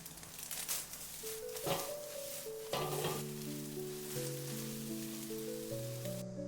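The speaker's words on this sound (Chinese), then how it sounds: "下入西紅柿丁，快速翻炒均勻" Diced tomatoes are stir-fried quickly in hot oil, giving a loud, continuous sizzle with surges as the spatula tosses them and background music playing throughout.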